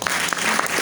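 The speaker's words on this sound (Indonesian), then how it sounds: "tepuk tangan buat Tuhan Yesus." A church congregation at a New Year service bursts into brisk, dense applause, a short close burst of many hands clapping together.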